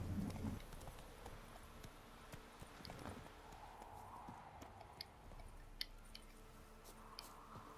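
Horse hooves clip-clop at a walking pace in The Witcher 3 on PS4, a soft, steady stream of hoof falls over a low ambient bed, with a few sharper clicks near the end.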